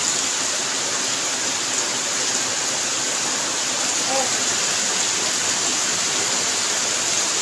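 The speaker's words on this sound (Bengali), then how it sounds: "প্রচুর বৃষ্টি হচ্ছে, ঝেঁপে বৃষ্টি হচ্ছে" Heavy rain pours down in a steady, dense wash of broadband noise that holds unbroken from start to finish, with no gaps or shifts in intensity.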